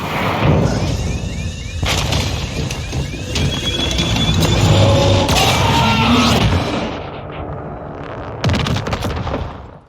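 A gunship killstreak being shot down in a Modern Warfare 2 cutscene: loud rattling gunfire and booming blasts with engine roar and mechanical whines, easing off toward the end before a last burst.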